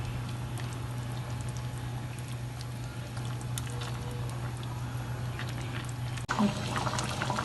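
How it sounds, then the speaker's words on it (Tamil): A pot of goat head curry with chilli powder bubbles steadily at a low simmer, a soft continuous burble with a hum behind it, then a brief clatter near the end. "குழம்பு நல்லா கொதிச்சிச்சு."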